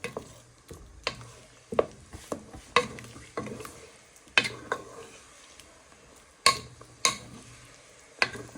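Pork pieces for a pot pork dish are stirred in a pan, with a series of sharp utensil scrapes and clacks at an irregular pace over a low, soft frying sizzle.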